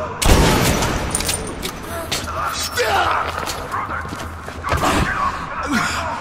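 Gunfire in the video game Metro Last Light: sharp bursts of shots and bangs over a dense, noisy battle background, with voices shouting through the mix.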